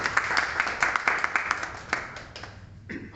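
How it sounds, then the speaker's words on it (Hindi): Applause at an 8 March gathering where an honoree is introduced, with several distinct nearby claps over lighter audience clapping that dwindles and stops near the end. "सो इनके लिए भी एक बार तालियां"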